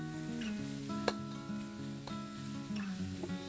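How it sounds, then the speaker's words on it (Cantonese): Pork belly sizzles in an unwashed wok over medium heat while being stir-fried for a home-style chili pepper dish, a steady close frying hiss with a few sharp spatula clicks and soft background music. "就咁落埋豬肉落去。"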